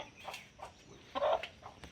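Native country chickens cluck in short bursts close by in a small chicken shed, with one louder squawk near the end; no voices.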